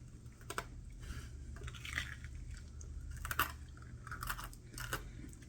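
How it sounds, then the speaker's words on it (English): Someone chews crispy fried batter off a stick, producing close, irregular crunches and bites over a low background hum, with no talking. "My favorite thing is chewing off that batter off the stick."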